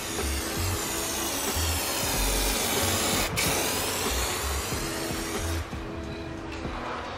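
A steady, hissing spray gun sprays a top coat of paint onto an air conditioner close by, broken by short pulses and a brief sharp burst midway, then continues more quietly.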